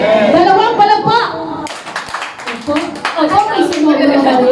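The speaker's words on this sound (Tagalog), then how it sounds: "Dalawang palakpak." A church congregation gives a double clap in unison, a burst of many hands sounding between stretches of a leader's speech, loud and close.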